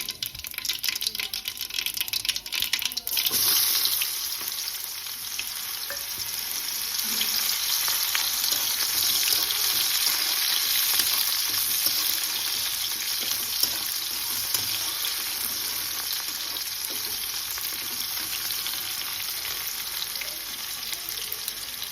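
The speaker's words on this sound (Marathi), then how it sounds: "हे जिरे तडकल्याच्या नंतर आपण त्यामध्ये आता कांदा टाकून घेऊया" Onion frying in hot oil with mustard seeds and cumin for methi bhaji, a loud continuous sizzle that rises when the onion goes in and stays steady, with occasional stirring.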